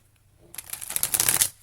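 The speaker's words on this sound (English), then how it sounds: "I apologize for not being able to shuffle the cards so well" Tarot cards are shuffled in a quick, crisp riffling burst lasting about a second, close up with no talking.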